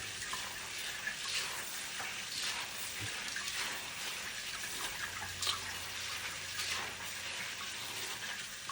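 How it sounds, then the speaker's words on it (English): Tap water runs steadily over coriander seeds held in a strainer, a soft continuous hiss with a few faint clicks and knocks from handling, quiet and fairly close. "I'm going to let the water run."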